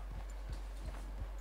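Horse hooves clip-clop at a steady walking pace in Red Dead Redemption 2, four evenly spaced soft thuds over a constant low hum, with no talk.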